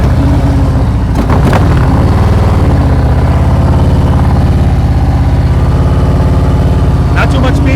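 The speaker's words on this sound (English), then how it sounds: "listen to your engine. Keep it steady. Keep it loaded." A motorcycle engine held at a steady, loaded low speed during slow-speed riding practice, a continuous mid-pitched drone running the whole time with a few brief sharper knocks near the start.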